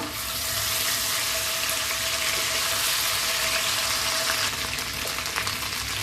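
A spice paste with garlic and ginger paste fries steadily in a pan for Bengali chicken kosha, a loud, continuous close-up sizzle with no talking.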